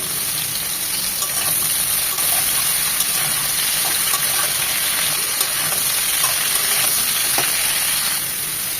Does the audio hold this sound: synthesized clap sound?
no